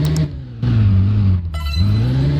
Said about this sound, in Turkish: Böyle araba zorlandığı yerleri sesler değişiyor.